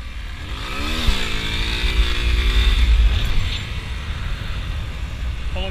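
Yamaha XTZ motorcycle engine revs up and holds a raised pitch before dropping back to a rough idle, loud and close.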